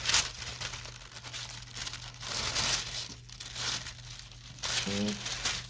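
Vintage book-page paper ephemera is folded and creased for decoupage, giving close crinkling and rustling that comes in uneven bursts throughout, with a brief quiet stretch near the middle and a low steady hum underneath.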